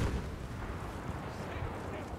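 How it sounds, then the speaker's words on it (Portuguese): Distant artillery fire in Battlefield V, a dull low rumble of explosions rolling under continuous battlefield noise for a couple of seconds. "Ah, eu acho que os caras jogaram artilharia."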